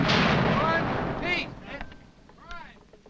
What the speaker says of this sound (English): Their cannon will pound the walls until they are breached.